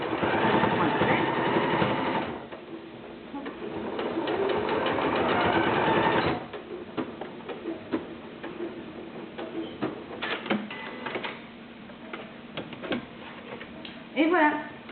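A sewing machine stitches a one-piece cloth face mask, its motor whirring in loud continuous runs with a rapid needle clatter, then dropping to short stop-start bursts with clicks and handling noises.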